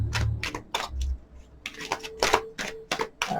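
Tarot cards are shuffled in a series of crisp, rapid riffling bursts and flicks, separated by short pauses, close and fairly quiet.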